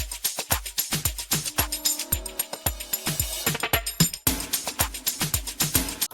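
Two snares layered together crack on the beat in an amapiano groove, over thumping log-drum kicks and busy hats, with a steady, punchy rhythm that briefly drops out midway before resuming.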